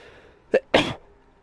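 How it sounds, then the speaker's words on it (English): A single sharp sneeze, a quick intake followed by an explosive burst, close and loud against a quiet background. "Oh, don't sneeze, not now."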